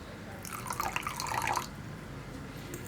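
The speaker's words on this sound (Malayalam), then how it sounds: "ഇനി ഇതിലേക്ക് കുറച്ച് വെള്ളം ചേർത്ത് ഒന്ന് മിക്സ് ചെയ്തെടുക്കുക." Water poured into a chilli gobi sauce mixture, a short splashy trickle lasting about a second at moderate level before fading to quiet room tone.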